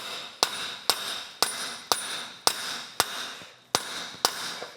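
Hammer tapping a steel drift pin set in the center of a 2007-2018 Chevrolet Silverado front CV axle, nine sharp metallic strikes at a steady rhythm with ringing decay, close and clear with no talking.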